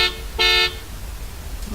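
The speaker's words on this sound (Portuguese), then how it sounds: "Precisa buzinar, mané?" A car horn in a flight simulator game gives two short toots, the second longer and louder, over a low steady engine hum with a faint third blip at the end.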